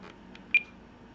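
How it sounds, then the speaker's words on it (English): A telemetry battery alarm on an RC transmitter for an E-flite P-51D Mustang 1.5m gives a short, sharp electronic beep after two fainter chirps, set against low background noise. "if you wonder what happened with that first alarm on the shakedown, this is what it is"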